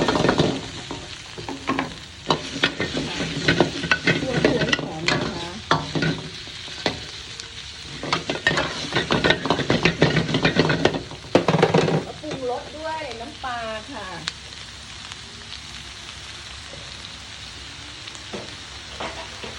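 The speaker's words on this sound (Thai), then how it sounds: "คั่วพริกแกงให้หอมก่อนเลยนะคะ" Curry paste dry-roasted with minced pork in a pan for stir-fried long beans, busy clattering and scraping of the spatula over a sizzle, with someone talking during a quieter middle stretch before stirring resumes faintly.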